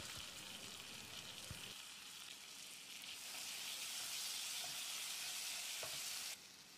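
Steady, loud sizzling of tomatoes sautéing with salt in a pan, with a couple of soft scraping stirs and a brief clink partway through.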